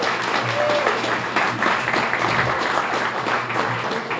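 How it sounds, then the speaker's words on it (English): A science café audience applauds a presenter, dense continuous clapping filling the room at a steady level from start to finish. "So we have a round of applause for Laura,"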